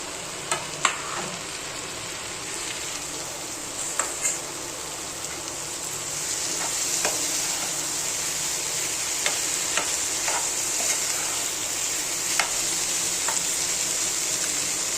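Steady sizzling of paneer frying in a pan, with occasional scraping and clinking of a spoon stirring, fairly close and continuous.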